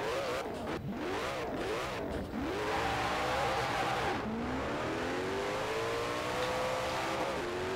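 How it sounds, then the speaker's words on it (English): A fully upgraded and tuned 2002 Koenigsegg CC8S in Forza Horizon 4 revs hard through several quick gear shifts, then holds a long rising high-speed engine drone, loud and steady without talk. "we've got the 2002 Koenigsegg CC8S, fully upgraded and tuned as well"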